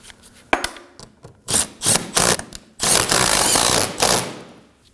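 Ratchet snugging a 10mm bolt on the AC condenser cooling fan assembly of a 2014-2020 Acura MDX, a run of close, quick clicking strokes, some short and choppy, then one longer steady burst.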